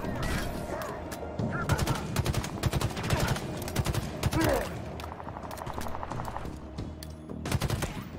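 Turret gunfire in Halo Infinite on Legendary difficulty, rapid bursts of loud automatic shots hammering in quick succession, pausing briefly and resuming, with battle noise and a voice speaking underneath.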